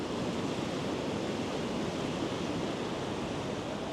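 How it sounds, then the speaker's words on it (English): Barreling ocean waves break on a beach in El Salvador, a steady, broad rush of surf that stays even and continuous throughout, with no voices heard. "now we're at the beach with barrel waves just barreling"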